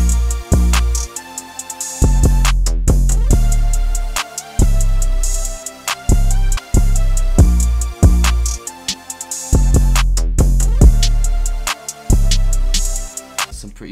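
Simple hip-hop beat at 140 BPM made in FL Studio: a melodic loop under punchy drums with a two-step pattern, deep booming kicks, claps and occasional rolls, loud and steady with no talk.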